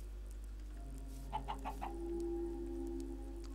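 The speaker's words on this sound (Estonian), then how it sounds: "Kana." Chickens in the video game Minecraft give four quick, evenly spaced clucks over a steady low hum, followed by a faint sustained tone.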